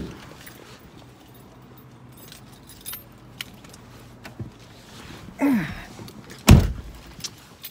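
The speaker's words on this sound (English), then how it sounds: "Let's turn on the car." Car keys jangle close by as a car is started, with small metallic clinks followed by louder rattling bursts and a brief rising whirr near the end, over faint background hum.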